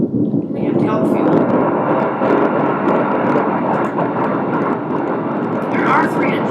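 Three rocket engines burning on a craft in Kerbal Space Program, a loud continuous roar that holds steady throughout while someone talks over it.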